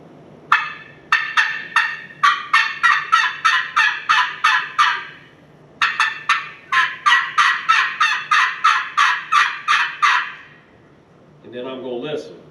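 Wild turkey sounds ring out loud and close in two long runs of rapid, evenly spaced sharp notes, followed by a short, lower rattling burst.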